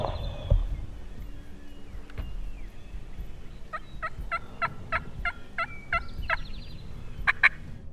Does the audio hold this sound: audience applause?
no